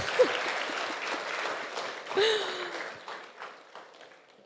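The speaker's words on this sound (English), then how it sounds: "A round of applause again." Applause from an audience at a public service and government forum, soft and somewhat distant, thinning out gradually, with brief vocal sounds mixed in.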